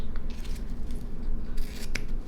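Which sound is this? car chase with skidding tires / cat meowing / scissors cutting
scissors cutting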